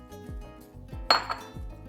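Metal utensil stirring igado, liver with garbanzos, in a cooking pan, giving a few sharp clinks and scrapes against the pan over a low hum of cooking, close up.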